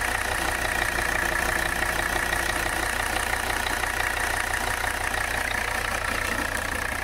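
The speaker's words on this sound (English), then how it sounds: "We got some blow-by now." The diesel engine of a 1985 Mercedes 300CD idles steadily with blow-by, a continuous rough clattering hum heard close up without talk.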